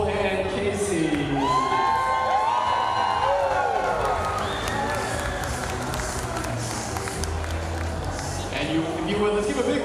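Wedding reception guests cheer, whoop and clap as the wedding party is introduced, a busy crowd roar sustained throughout with shouting voices on top.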